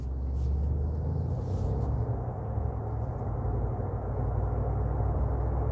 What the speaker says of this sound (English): the external noise, the fake noise, actually has some deep humming